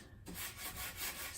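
Light hand sanding of a waxed, chalk-painted wooden chair: a steady, soft scratchy rubbing that runs continuously at close range after a brief quiet start, with no voices.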